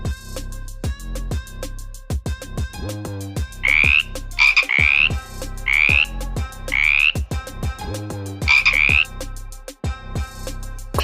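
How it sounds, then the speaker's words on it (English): A frog croaks in a series of loud, close, rasping pulses, repeated in short bursts with brief gaps between them. "Frog."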